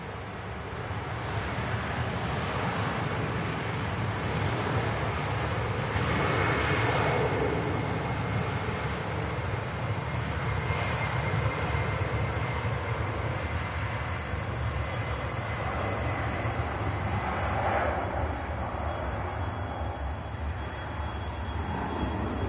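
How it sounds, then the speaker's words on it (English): A passenger jet departs Manchester Airport for Toronto, its engines a steady, loud, broad roar that holds for over twenty seconds, with wind buffeting the microphone and no talking. "There she goes, back to Toronto. One of two aircraft that have visited Manchester today from the city in Canada."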